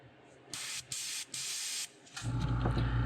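Airbrush spraying fluorescent green paint onto a craw fishing lure in a firetiger pattern, three steady hissing bursts separated by short pauses, close and fairly loud, followed by a louder low rumbling sound.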